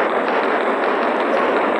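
A barrage of missiles striking a planet in Solar Smash makes a dense, continuous crackling rumble of rapid impacts, loud and unbroken across the short stretch, with no voices.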